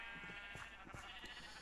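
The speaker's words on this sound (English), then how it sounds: "This is the sheep." A sheep bleats in Minecraft with the Better than Wolves mod, several short wavering calls, faint and set under a steady bed of game music.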